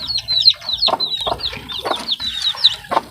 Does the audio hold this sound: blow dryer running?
no